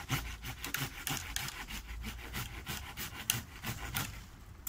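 A hand saw cuts through a mulberry tree branch at its base in quick, rhythmic rasping strokes, fairly quiet and close, with no talking.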